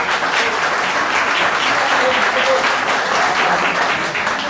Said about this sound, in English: Can we have a round of applause for our teachers?